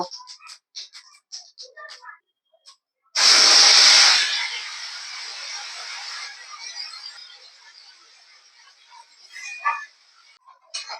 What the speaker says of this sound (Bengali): এবার ওই তেলের মধ্যে ফোড়নে দেব জিরে আর শুকনো লঙ্কা এবার যে বেটে রেখেছিলাম বাটা মশলাটা দিয়ে দেব